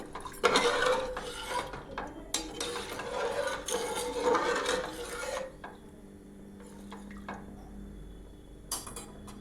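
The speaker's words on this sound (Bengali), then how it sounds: "এবার এটা একটু নেড়ে আমি চাপা দেবো।" A spoon stirs rice and water in a metal pot while making basanti pulao, producing irregular scraping, clinking knocks and rattles that grow quieter toward the end, with no talking.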